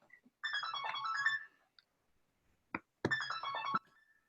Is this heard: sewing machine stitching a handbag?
no